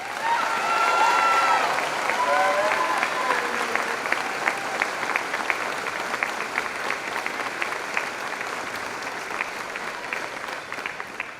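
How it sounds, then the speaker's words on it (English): A graduation ceremony crowd applauds for two students bound for the military, a dense, sustained round of clapping from a large audience that holds steady throughout. "Please give a round of applause for Hunter Schwantes and Rose Meyer."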